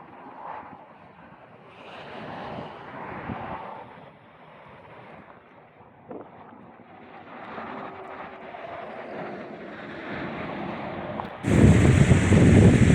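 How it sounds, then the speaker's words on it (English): Strong gusty wind at a highway rest area during a drive to Fort Stockton with 50 mph gusts, a rushing, buffeting roar that rises and falls, then swells into a louder blast at the end. "If this wind keeps going like it is, I may be stuck here."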